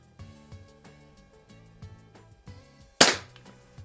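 A single sharp shot from an Umarex Ruger Mark IV .177 break-barrel pellet pistol on a snowy night, one loud crack with a quick decay, heard over a faint steady background tone.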